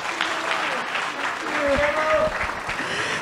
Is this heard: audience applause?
yes